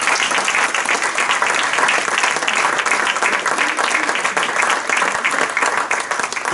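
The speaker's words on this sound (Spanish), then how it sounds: "Denle un aplauso al Señor." A church congregation claps loudly and continuously, a dense, even roar of applause sustained throughout with no break.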